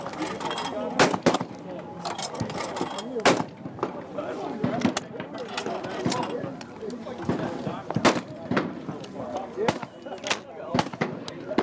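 Benelli 828U over-and-under shotguns fire at a clay shooting range during SHOT Show 2015, giving sharp, loud repeated reports at irregular intervals, with people talking throughout.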